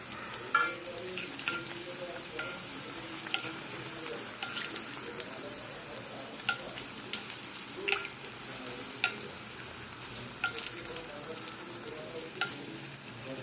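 Dhakai paratha fries in hot oil with a steady, close crackling sizzle, punctuated by frequent light spattering pops and occasional utensil taps; no voices.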